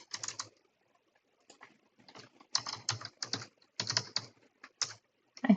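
Someone typing a name on a computer keyboard in short bursts of quick, clicky keystrokes, separated by a silent pause, close and clear with no talking.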